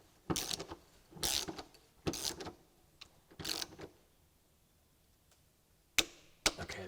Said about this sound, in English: So we're going to torque these down.